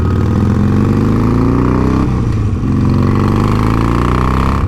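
A 2020 Harley-Davidson Sportster 48 cruiser with an aftermarket exhaust revs loudly and close, a deep, rich rumble rising and falling through the throttle with a brief dip in the middle before climbing again.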